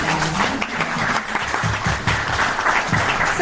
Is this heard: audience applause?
yes